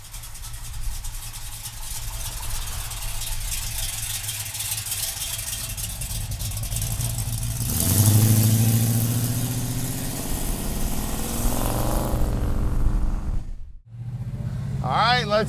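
A 1970 Dodge Dart engine idles and rumbles steadily, then revs higher midway, with a brief cut near the end before the engine sound resumes.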